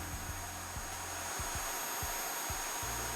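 Dreame H11 Max floor washer running its self-cleaning cycle at full power, giving a loud, steady airy whine with low knocking thumps underneath at irregular intervals, close and continuous.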